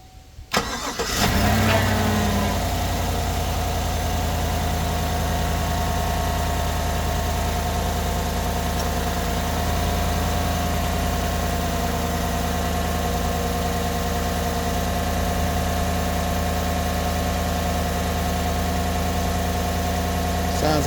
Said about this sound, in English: I'll start up the truck and we'll see how it sounds